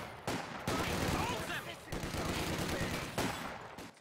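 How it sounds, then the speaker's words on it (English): Sustained bursts of MP40 submachine gun fire from assault grenadiers in a Company of Heroes 2 match, loud and dense, with brief pauses between rattling volleys and close-range combat clamor. "Those MP40s on their assault grenadiers are working their magic."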